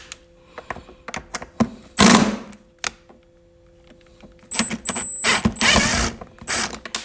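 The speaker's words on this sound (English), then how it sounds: "We're going to take them two screws out." Screws being backed out of the gear shift on a John Deere Gator HPX utility vehicle: close ratcheting clicks and mechanical rattles, with louder bursts of scraping and turning in between.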